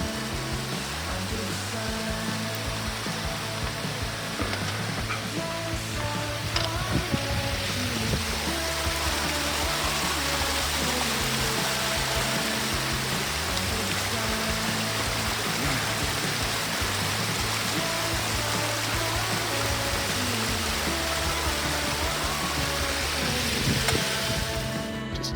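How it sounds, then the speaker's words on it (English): Continuous rushing water, a stream flowing steadily alongside and down a hiking trail in Glacier National Park, with a broad, even hiss and no pauses. "We have some beautiful water alongside the trail and flowing right down it."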